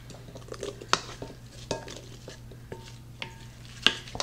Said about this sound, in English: then we're just going to mix that together with a wooden spoon or a spatula